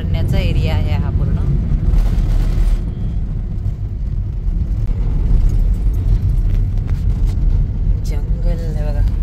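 A car drives along a road through dense forest in the Karnala sanctuary, heading toward Konkan. The engine and road noise rumble low and steady throughout, with a voice talking over it.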